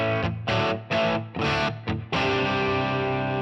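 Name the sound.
electric guitar through amp modeler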